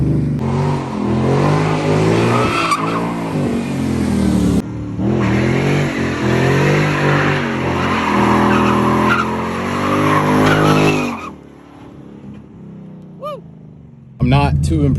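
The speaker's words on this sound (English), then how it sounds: "I'm gonna drift all the way around this corner coming uphill." A flood-damaged car, just back from a backyard engine repair, drifts around an uphill corner. The engine revs loudly and the tires squeal in a long, skidding roar that cuts out abruptly, followed by quieter moments and brief voices.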